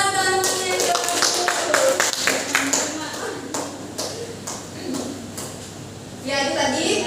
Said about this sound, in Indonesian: tepuk tangan teman-temannya.